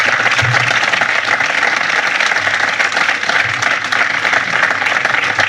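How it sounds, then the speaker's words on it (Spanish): Audience applause at a political conference, a dense, loud, sustained clapping that fills the room throughout. "quiero que lo notes con este fuerte aplauso"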